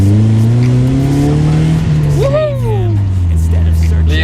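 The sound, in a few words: car engine revving as it accelerates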